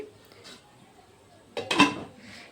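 Lid set onto a pot of jackfruit seeds warming in hot water, one short close metallic clank after a quiet stretch.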